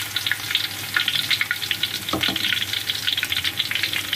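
Chili sizzling and frying steadily in a hot pan for nasi goreng, a dense continuous crackle with occasional stirring scrapes, close and fairly loud with no talk.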